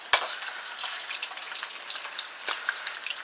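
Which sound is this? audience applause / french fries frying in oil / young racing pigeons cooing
french fries frying in oil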